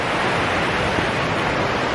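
A fast-running river beside a path in Rocky Valley, Cornwall rushes with a constant, dense hiss of flowing water, close and steady throughout, with no voices.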